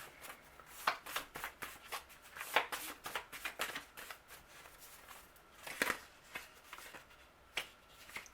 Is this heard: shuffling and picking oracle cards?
yes